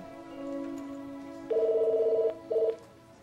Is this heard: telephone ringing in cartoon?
yes